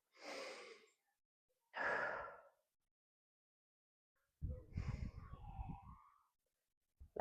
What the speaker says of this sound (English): Deep breathing, just for a couple of breaths.